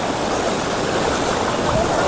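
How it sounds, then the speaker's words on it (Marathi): A small, gentle jungle stream flows steadily along the Bhimashankar to Bhorgiri trek trail, producing a constant close rushing wash of water with no breaks. "थोडासा ओढा आहे. एवढा पण फोर्स नाही आहे."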